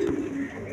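A single short, low coo from a Giribaz pigeon, one of a high-quality crested pair, sounding close and clear over faint background noise.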